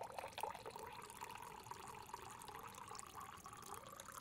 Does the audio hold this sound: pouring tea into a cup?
yes